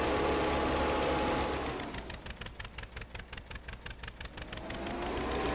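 MTZ 5 tractor in Farming Simulator 15 reversing at maximum speed, a steady low engine drone that shifts after two seconds into a rapid, rhythmic pulsing whine with a repeating mechanical beat, heard alone and fairly close.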